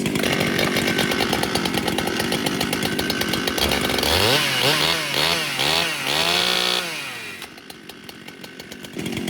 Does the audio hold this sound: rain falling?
no